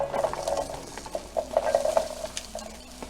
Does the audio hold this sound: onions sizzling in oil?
yes